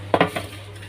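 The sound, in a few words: metal baking tray being handled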